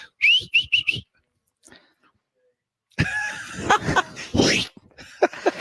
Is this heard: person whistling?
yes